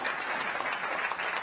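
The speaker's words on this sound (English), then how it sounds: "How about another round of applause for Secretary Rick Perry" A crowd at a White House energy event applauds Secretary Rick Perry, a steady, dense wash of clapping held at even loudness for a brief burst with no voices over it.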